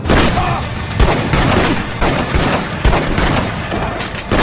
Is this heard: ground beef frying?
no